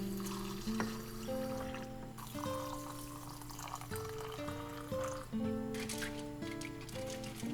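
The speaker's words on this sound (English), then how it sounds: "I'm filling all of them with water so they can be soaking for around 24 hours." Water is poured into a row of cups to soak sprouting seeds, a soft trickling fill in short stretches at low level, with musical tones and faint ambience behind it.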